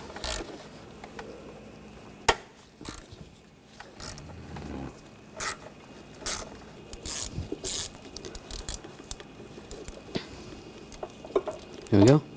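A ratchet with a 10mm socket loosens a bolt during starter replacement on a 2004-2012 Chevrolet Colorado 3.7L, giving short clicking and ratcheting bursts among tool clatter, with a person talking at times.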